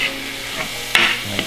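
Worcestershire sauce stirred into sizzling nacho filling in a pan gives a close, steady frying hiss with a few quick scraping strokes of a utensil and no talking.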